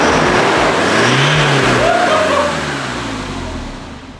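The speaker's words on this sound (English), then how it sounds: "The exhaust doesn't sound a whole lot different due to DPF" A diesel Toyota Hilux pickup engine revs and pulls away with a soft, muffled exhaust note through a diesel particulate filter, rising briefly then fading as it moves off.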